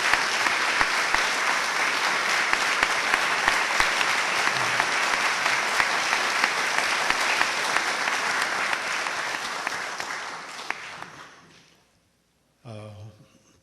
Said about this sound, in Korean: 제가 여러분에게 이 3분에게 한번 뜨거운 박수 좀 보내주셨으면 합니다.